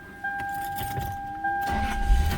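Keys rattle in a Lexus LS 430, then the warm engine cranks and catches, rising into a low, steady idle rumble heard from inside the car, with no talking.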